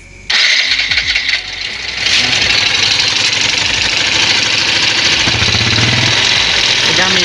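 Yamaha Jupiter Z1 motorcycle with a rough-running engine starts and settles into a steady, loud idle with its exhaust muffled, a continuous close mechanical drone.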